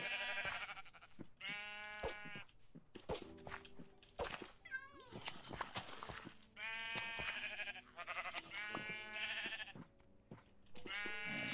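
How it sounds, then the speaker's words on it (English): Sheep in the Minecraft video game bleat repeatedly, wavering game bleats arriving in several bursts amid small clicks and effect sounds, fairly quiet overall. "And we make some purple sheep again."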